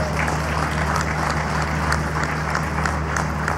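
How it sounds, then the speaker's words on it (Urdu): Crowd applause at a political rally addressed by Prime Minister Nawaz Sharif, dense and steady clapping from a large audience throughout, with a low electrical hum underneath. "آگے والے اتنی تالیاں بجا رہے ہیں، کو پچھلے والے بھی تالیاں بجائیں بھائی۔"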